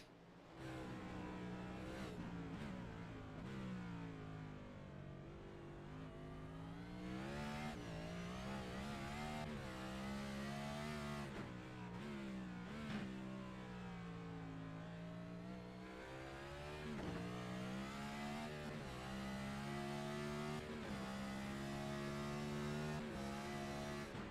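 Onboard engine of a race car lapping the Chicago Street Course in iRacing, continuous loud drone rising and falling through gear changes and revs for the whole stretch, with no talk over it.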